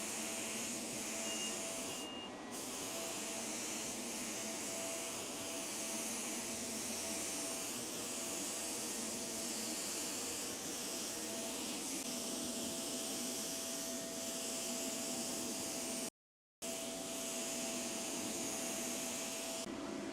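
A paint spray gun lays a wet second coat, giving off a steady, dense hiss that runs almost unbroken with one brief pause near the end.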